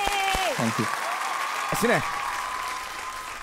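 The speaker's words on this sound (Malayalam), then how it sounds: "അശ്വിന്റെ എനർജിക്ക് ഈ കൈയടിയൊന്നും പോലെ നല്ല എനർജിയിൽ കൈയടിക്ക്." Audience applause follows a singing performance on the Sa Re Ga Ma Pa Keralam stage, a steady broad clatter of clapping that lasts the whole stretch while a host's voice speaks over its opening.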